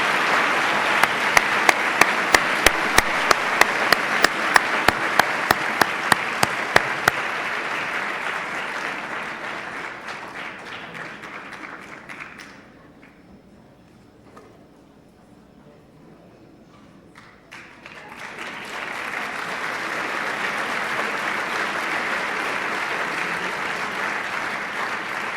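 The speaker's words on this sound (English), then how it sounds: "Let's give him one more round of applause." Audience applause with steady clapping fills a high school auditorium at a state speech competition, loud at first, then fading to near quiet before a second burst of clapping swells again.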